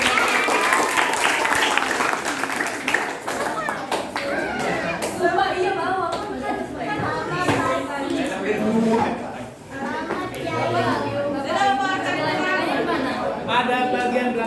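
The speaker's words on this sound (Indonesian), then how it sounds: "Beri tepuk tangan buat kamu" A classroom of students at a vocational high school claps for a group coming forward, with brisk clapping at first that fades into chatter and children's voices talking in the room.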